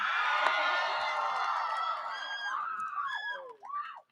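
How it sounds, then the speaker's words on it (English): Students at a high school graduation ceremony cheer and whoop for their middle school, a loud sustained crowd roar that tapers off with a few scattered high shouts at the end. "Students, make some noise and cheer for the school you attended."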